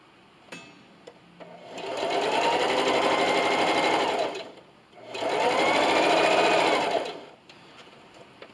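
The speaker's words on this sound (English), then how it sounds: "Now just keep sewing." Sewing machine stitching fabric for a trifold notebook and pencil case, two sustained bursts of rapid needle whirring separated by a short pause, close and clear.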